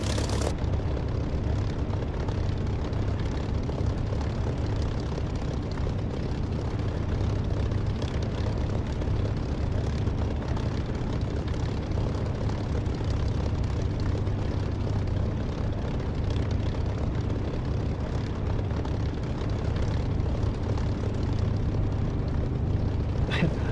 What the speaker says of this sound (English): set my trim, move set of the runway, and take off.